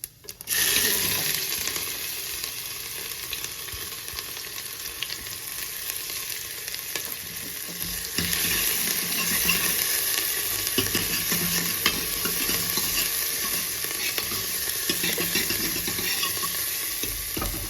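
Cumin, garlic, ginger and green chilli fry over low heat in a pan for a radish dish, a constant loud sizzle under repeated stirring scrapes that continues throughout, with no speech.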